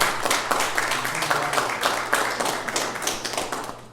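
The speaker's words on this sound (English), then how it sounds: "a round of applause is in order for Rod Boyer, Brian Hemingway, Melody McWhe" An audience at a school board candidates' forum gives a round of applause: steady, fairly close clapping from a modest crowd that fades gently toward the end.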